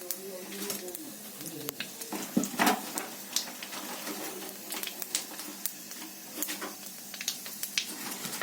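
Black cumin seeds crackle and pop in hot oil as a tempering for a fish curry, with sharp scattered bursts over a soft hiss and talking in the background.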